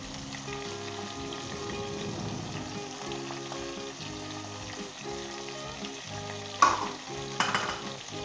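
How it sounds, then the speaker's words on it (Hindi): Onions and masala fry in a pan for a beef keema karela dish, a steady close sizzle with occasional stirring scrapes and two louder clattering bursts near the end, no voices. "तो दोस्तों अच्छे तरीके के सामने इस मसाले को भूनना है 5 मिनट तक।"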